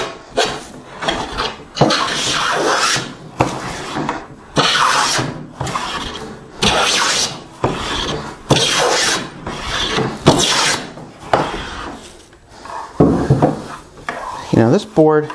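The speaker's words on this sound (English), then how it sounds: "the triplane takes a full shaving" A wooden try plane is pushed along a wooden board to take full shavings, giving a loud rhythmic series of about a dozen rasping, swishing strokes, each roughly a second long with short gaps between.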